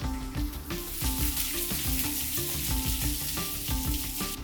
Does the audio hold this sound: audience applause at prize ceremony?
no